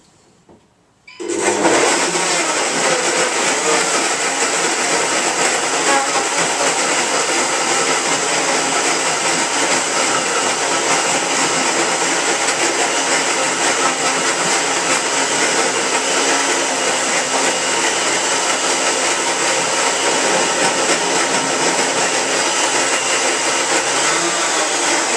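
A blender whirs a berry and avocado mix after a short start, running at one loud, steady pitch for over twenty seconds with no talk.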